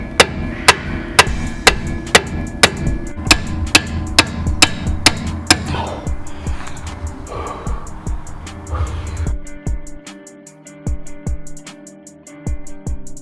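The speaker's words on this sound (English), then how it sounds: "So we've got the spindle pin out after lots of hammering" Heavy hammer blows drive a rusted spindle pin out of a Datsun 240Z suspension, a steady run of loud, sharp metallic strikes at about two per second, then slower, scattered knocks toward the end.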